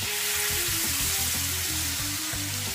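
Beef stock sizzles and spits loudly in a hot frying pan, a constant frying hiss with bubbling and the occasional scrape of stirring.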